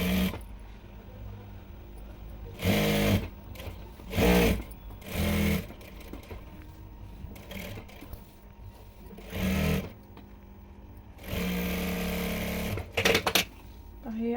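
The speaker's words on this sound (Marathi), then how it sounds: "आता आपल्याला साईडने स्टिच करायचं आहे" A sewing machine stitches the side seams of a dress made from a sari, running in several short whirring bursts separated by pauses, with one longer steady run near the end; someone speaks quietly between runs.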